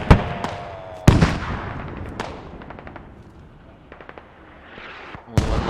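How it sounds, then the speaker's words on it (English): Rocket explosions and gunfire in a Squad match, with sharp loud blasts at intervals, scattered rapid shots and rumbling decay between them. "Gummy Bear gets smacked by a rocket."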